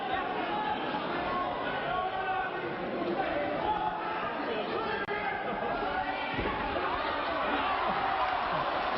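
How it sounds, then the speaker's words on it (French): A wrestling crowd protesting at a tag-team match, a dense continuous roar of shouting and chatter filling the hall at steady loudness, with a commentator's voice running over it. "Le public proteste, il n'a pas tort."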